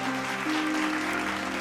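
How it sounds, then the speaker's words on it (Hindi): Applause echoes through a royal court in an animated folk tale, a steady dense wash of clapping that fills the short stretch, with a sustained musical tone underneath. "दरबार में तालियों की गूंज तेज हो जाती है।"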